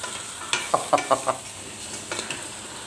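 Pieces of food dropped into hot oil, with a few sharp sizzling bursts and clinks of stirring in a pot, close and fairly loud.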